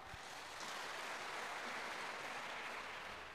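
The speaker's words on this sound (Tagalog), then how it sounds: "Palakpak." A church congregation at a Catholic Lenten recollection claps together in a steady, even wash of applause that sounds faint and somewhat distant throughout.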